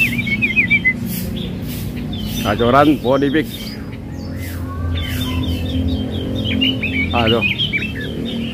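Caged songbirds at a bird market, including a robin known locally as wambi mini, give sharp chirps and short trilling calls, some close and loud, under intermittent conversation between people.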